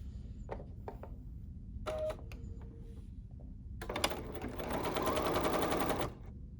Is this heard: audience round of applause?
no